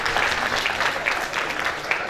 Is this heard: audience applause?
yes